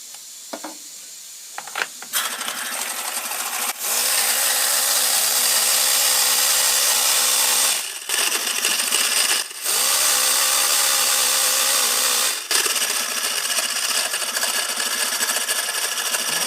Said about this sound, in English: I tested this vibrator before I put it on